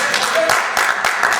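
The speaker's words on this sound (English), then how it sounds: "I just want to actually discourage people from applauding after every single response" Audience applause at a 2009 student body presidential debate on a university campus, a noisy, even patter of clapping with a few stronger bursts, mixed with voices talking.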